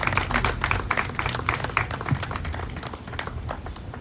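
Steady applause from an audience at an evening Portuguese flag-raising ceremony, many hands clapping densely and fairly close for about four seconds, tapering slightly toward the end.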